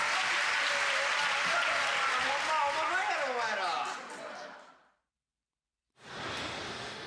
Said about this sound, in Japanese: 花道では拍手が送られます。